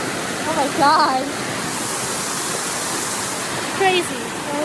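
Constant rushing water from a waterfall at a swimming area, with people's voices rising briefly over the roar early on and again near the end.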